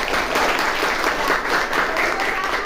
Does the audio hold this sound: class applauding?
yes